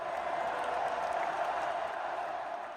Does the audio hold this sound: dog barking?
no